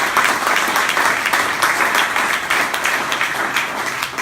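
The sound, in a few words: audience round of applause for Rasheed and his team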